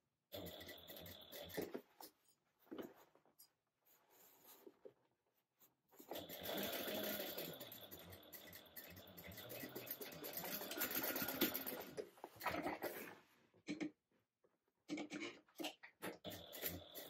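A sewing machine stitches a bag's side panel to its base at a half-inch seam allowance. Long, steady runs of fast mechanical whirring are broken by short bursts and pauses, heard close and clear.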